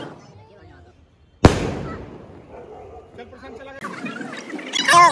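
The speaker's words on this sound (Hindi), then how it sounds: "स्काई शॉट चलाएंगे, मतलब थोड़ा सा धमाका" After a quiet moment, a single sharp sky shot firework bang bursts out, followed by crackling, rustling and excited voices talking nearby.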